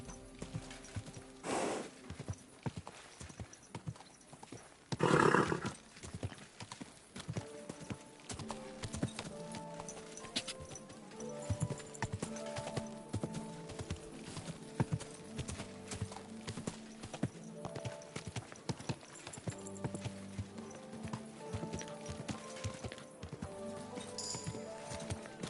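Hooves clip-clop in a steady walking rhythm throughout, close and fairly quiet, from a horse in the Kingdom Come: Deliverance 2 video game, with an occasional snort or whinny.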